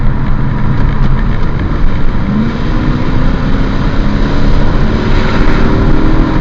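A deep, steady V8 engine rumble from a BMW E39 535i drones throughout, loud and close, with a throaty exhaust note that holds fairly constant and no talking.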